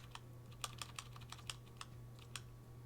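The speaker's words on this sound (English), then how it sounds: "No, because I can hear him typing." Keys clack on a computer keyboard in irregular, quick bursts of typing, faint and close, over a steady low electrical hum during an online game session, with no voices.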